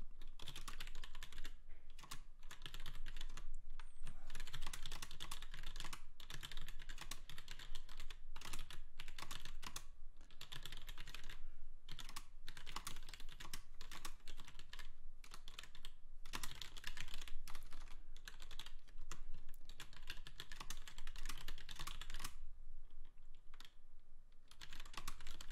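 Steady, continuous typing on a computer keyboard, with dense rapid keystrokes and brief pauses, close and fairly quiet with no speech.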